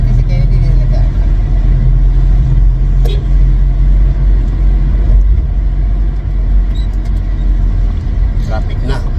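Road traffic of passing cars, a continuous, loud engine rumble and road noise under people talking close by.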